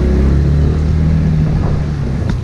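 Original, unmodified motorcycle engine pulling under throttle, a loud close droning growl with a steady rumbling pitch that eases slightly toward the end.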